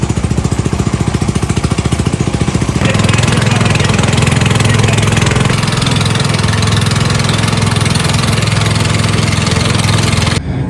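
A small motor boat engine on the Amazon river, a loud close chugging drone that rises in intensity after a few seconds and holds steady, then drops off abruptly near the end.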